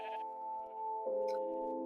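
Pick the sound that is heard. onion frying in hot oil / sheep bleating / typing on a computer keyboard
sheep bleating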